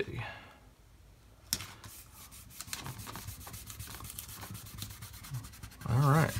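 Thin vinyl PlayTape being peeled off its backing, a close, quiet series of soft rubbing and crackling strips with small ticks, ending in a louder scrape.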